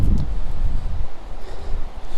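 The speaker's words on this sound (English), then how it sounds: "It's a windy and cold day today," Gusty wind on a cold, slightly rainy day buffets the microphone outdoors, with low rumbling bursts strongest at the start and a steady rushing noise throughout.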